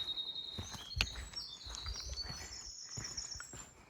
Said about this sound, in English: I don't even know what that bird is.